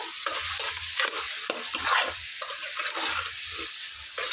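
Chicken frying with tamarind leaves in a pan for a village-style tamarind-leaf chicken curry, a steady close sizzle broken by repeated scraping stirs of a spoon against the pan, with no voices.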